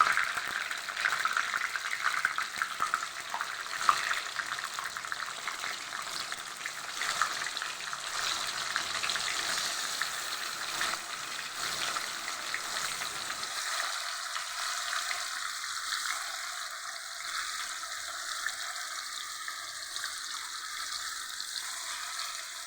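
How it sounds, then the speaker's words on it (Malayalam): Chicken pieces frying in oil with curry leaves and masala, a steady loud sizzle that gradually softens and thins out over time, with no talking. "ചിക്കൻ അതിനകത്ത് ഓരോന്നിട്ട് ഇട്ട് കൊടുക്കും."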